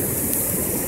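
Sea waves wash onto a beach in a steady, loud broadband rush, close by and continuous for under a second with no voices.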